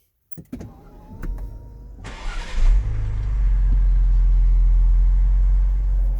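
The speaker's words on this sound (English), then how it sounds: "to take a listen to our exhaust notes from the cabin" A 2020 Ford Explorer ST heard from inside the cabin: a few clicks, then the starter cranks and the engine catches into a deep, steady idle rumble that fills the interior and stays constant.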